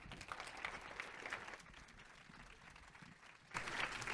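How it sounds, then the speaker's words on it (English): Audience applause welcoming a panel on institutional food procurement, a steady wash of many hands clapping at moderate volume, easing slightly mid-stretch then swelling again near the end. "Round of applause."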